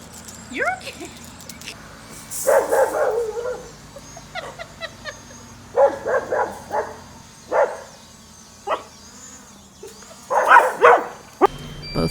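A dog barks in short bursts at several points, with scattered barks between, under light background noise and some voices.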